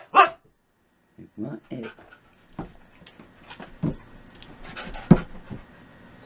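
A husky barks and yowls in short, scattered bursts with some panting and jingling, close by, while a person urges it on with speech between the vocalizations.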